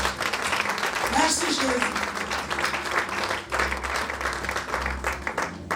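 A church congregation applauds and cheers loudly throughout, with a preacher's voice speaking over the sustained clapping.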